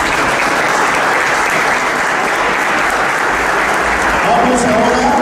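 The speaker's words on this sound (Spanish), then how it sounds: "Fuerte el aplauso." Audience at a book presentation for "Rúben: Intelecto y Fe" in Jalpa de Méndez breaks into loud, sustained applause, a dense steady clatter of many hands that stays strong throughout, with a few brief voices rising near the end.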